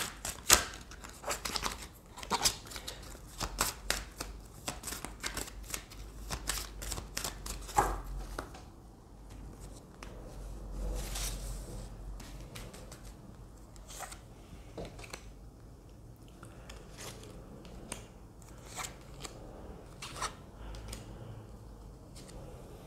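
Oracle cards from a manuscript-themed deck are shuffled and drawn, producing a quick, irregular run of crisp paper flicks and slaps up close. The cards then settle into sparse, quieter handling.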